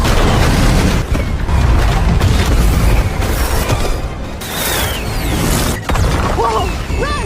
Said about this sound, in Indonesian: langsung dikejutkan dengan serangan kembang api